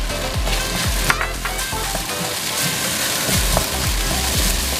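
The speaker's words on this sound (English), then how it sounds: "I'm gonna start this off putting onions in." Onions sizzling loudly in an Instant Pot for a hearty beef stew, a continuous close frying hiss with stirring and occasional light knocks throughout.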